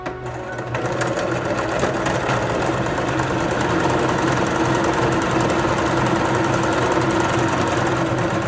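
A sewing machine stitches a seam along the edge of a surgical scrub cap, a continuous fast mechanical whir starting after a brief pause and running steadily up close.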